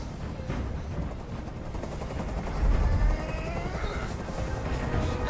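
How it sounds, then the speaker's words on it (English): A helicopter thrums and whirs in the video game Detroit: Become Human, its low rotor noise swelling with rumbling impacts and crackling, gunfire-like bursts layered over the scene. "I can't stand that noise anymore. Tell that helicopter to get out of here!"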